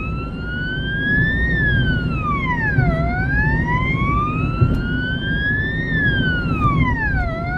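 A loud siren on a lifesaving emergency transport vehicle driving in fog wails up and down in slow sweeping cycles over constant road and engine rumble.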